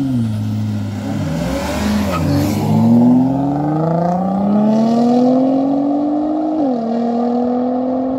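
A Nissan GTR passes at speed, its engine note rising and falling as it approaches, then fading and climbing again through a gear change as it pulls away. The pass is loud and continuous, with no talking.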